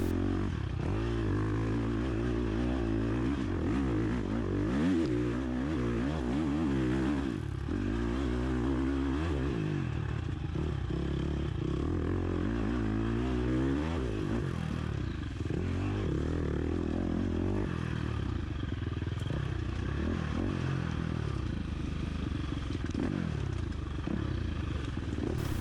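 Racing motorcycle on a sprint enduro course over cobblestones and loose ground, the engine droning and revving close by, rising and falling in pitch through gear changes without a break.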